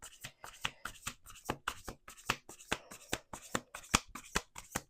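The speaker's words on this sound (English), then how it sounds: "Let me do the last shuffle" Rapid riffle shuffling of a deck of tarot cards, a steady run of crisp flutters and snaps repeating about twice per second, close and fairly quiet.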